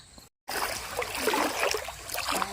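Water trickling and flowing at a shrimp-trapping spot outdoors, a steady broadband splashing stream after a brief dropout, close and continuous with no talk.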